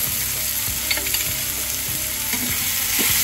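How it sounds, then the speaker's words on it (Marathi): A chili mixture with salt and crushed peanut powder fries in a pan, giving a constant loud sizzle with rhythmic scraping strokes of a spoon stirring close up, no voices. "आता हे छान हलवून घ्यायचं"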